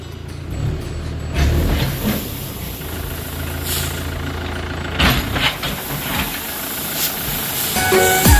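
A tractor engine idles loudly and steadily while paddy is unloaded from its trolley, with rumbling low drone joined by scattered clunks and bursts of handling noise.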